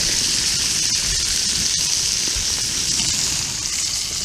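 Bacon sizzles in a small frying pan at a snowy wild camp in sub-zero cold, a steady close crackling hiss with no pauses.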